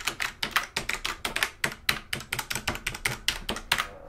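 Rapid typing on a Rosewill mechanical keyboard with Cherry MX Brown switches, a steady run of crisp clicky keystrokes close up, with no voices.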